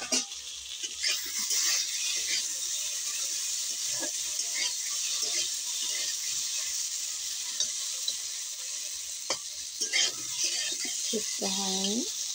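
Soybean curry sizzles in a frying pan while a utensil stirs and turns it, producing steady hissing with intermittent scraping knocks, close by, and a voice speaks near the end.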